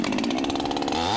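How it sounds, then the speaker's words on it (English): A chainsaw runs at full throttle while a logger fells a tree, a loud, close, buzzing engine snarl holding steady and then dipping slightly in pitch near the end. "The chainsaw produces excessive vibration and noise"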